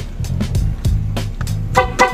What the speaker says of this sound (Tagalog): Busina nagana